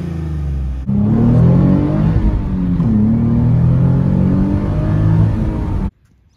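A Nissan 370Z with a VQ V6 and DNA Motoring aftermarket exhaust revs hard, a loud, raspy engine note rising and falling steadily for about five seconds before cutting off abruptly.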